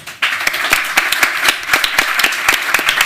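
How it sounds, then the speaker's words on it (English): A round of applause breaks out from the audience at a panel event, starting abruptly and continuing as brisk, closely spaced claps at a steady level for a few seconds. "So join me in a round of applause, please."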